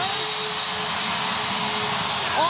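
Crowd noise swells in a basketball arena at a WNBA game between the Indiana Fever and Las Vegas Aces, a steady loud wash of voices and cheering that builds throughout.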